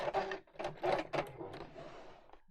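Short bursts of machine stitching through fabric, several quick runs of rapid needle clatter separated by brief pauses, close and moderately quiet, with no talking.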